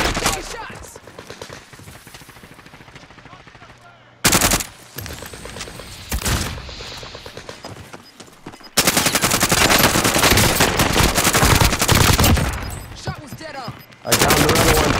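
Loud, sustained automatic gunfire from a four-player squad match in a shooter video game, heavy rattling bursts that pause and resume, with voices talking over the shooting.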